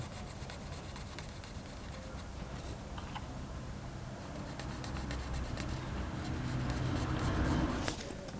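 Pencil drawing the wings of a fishing lure on a sheet of paper, quiet scratchy strokes rubbing on and off with a faint steady rustle.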